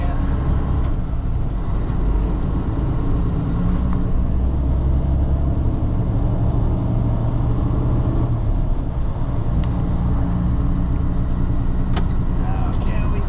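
A truck on a road in Hawaii, its engine and road traffic forming a loud, constant close rumble throughout, with a voice talking over it.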